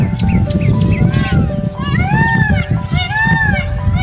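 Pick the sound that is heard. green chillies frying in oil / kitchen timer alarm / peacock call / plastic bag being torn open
peacock call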